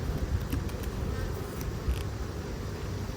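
A dense, steady drone of many Buckfast honeybees buzzing up close on hive frames, a continuous hum with no voices.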